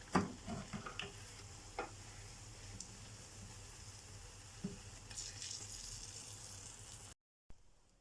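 Sesame-coated falafel (ta'ameya) fries in hot oil with a faint, steady sizzle and occasional small crackles and pops throughout.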